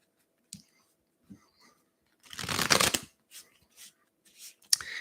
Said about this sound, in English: I'll shuffle the cards for you